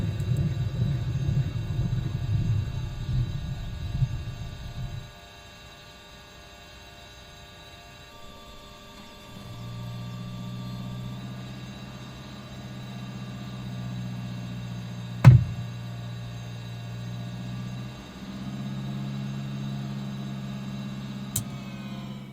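Engine and rotor noise from a Bell 206 helicopter in a flight simulator during shutdown. A steady drone runs first, then drops away to a quieter, lower hum as the rotors spin down, with a couple of sharp clicks.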